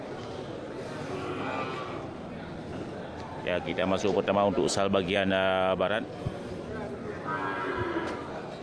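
Large fattened local cattle low at a crowded livestock market, one drawn-out moo rising loudly over a dense murmur of people, while someone talks nearby before and after the call.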